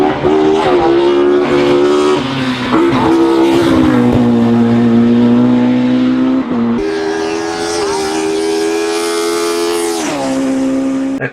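Racing car engines at a 1967 Australia Day motor race in the Blue Mountains, loud and continuous, with engine pitch rising and falling as cars accelerate and shift past.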